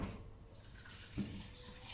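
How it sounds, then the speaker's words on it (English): Tap water runs into a pot of tomatoes in a kitchen, a soft steady splashing rush, faint and close, with a small bump partway through and no talk. "adding more water. I need"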